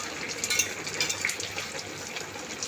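Katapona fish curry with potato and pointed gourd boiling in a pot, a steady bubbling simmer with light pops and a gentle, continuous churning hiss throughout.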